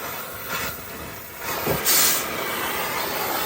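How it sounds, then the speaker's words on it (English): Continuous loud hissing and sizzling of a rubber engine cradle bushing on a Saturn Vue boiling under heat, with a couple of brief surges in intensity partway through. "You can definitely hear it boiling inside there. It's sizzling in there."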